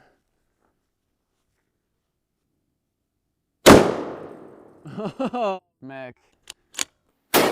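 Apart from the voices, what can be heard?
real gunshots fired at a Lego Panzer tank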